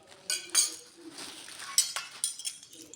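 Kitchen spatulas and spoons, one small and one large, are handled close up and clink in a few sharp, irregular metallic taps against a quiet background.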